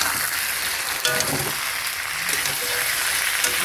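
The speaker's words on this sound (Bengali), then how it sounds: "হলুদ দেবো একটু, দিয়ে কষাবো।" A paste of ginger, green chili, coriander and cumin, with turmeric added, sautés in hot oil, giving a dense, close, continuous sizzle with occasional crackles and no voices.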